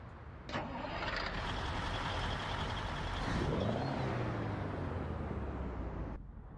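Kenworth W990 truck engine cranking and firing up in American Truck Simulator, with a sharp click before the starter churns, then the engine catches and settles into a deep, rising then steady rumble that cuts off abruptly.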